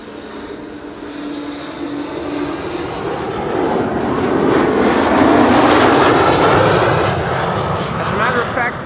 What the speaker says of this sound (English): So this is KLM flight 1414 arriving from Rennes.